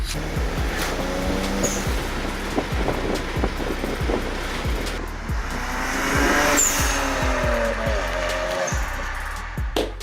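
A BMW 335i fitted with a VRSF charge pipe and an HKS blow-off valve revs under throttle, with sharp whistles and hissy releases from the valve cutting through the engine noise.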